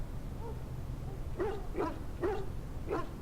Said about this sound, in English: This is a Mabari. Smart breed and strong.